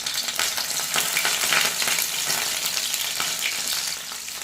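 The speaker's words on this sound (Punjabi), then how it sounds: "ਤੇਲ ਗਰਮ ਹੋ ਗਿਆ ਇਹਦੇ ਵਿੱਚ ਆਪਾਂ ਭਿੰਡੀਆਂ ਰੱਖ ਲੈਣੀਆਂ" Stuffed okra (bhindi) laid into hot oil in a pan, giving a steady, close crackling sizzle that swells slightly and then settles, with no talking.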